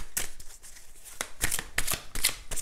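Tarot cards being shuffled by hand in a quiet room, a series of crisp papery riffles and slaps in irregular bursts, close and moderately loud with no speech.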